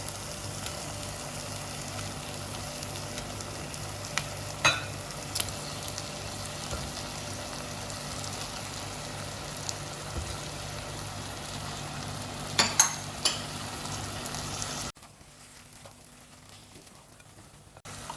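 Shrimp frying in a pan for a Betawi chicken-and-shrimp laksa give a soft, steady sizzle with occasional small pops and utensil clicks, quiet throughout, then drop to near silence at the end.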